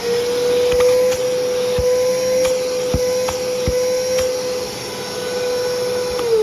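A Karcher vacuum cleaner runs continuously and loudly with a steady whining motor tone, alone with no talk, the pitch dipping slightly near the end.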